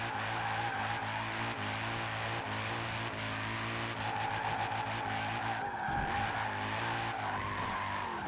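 A car in the video game Forza Horizon 4 drifts with tires skidding continuously over a steady, loud engine drone, the screech wavering briefly near the end. No one speaks.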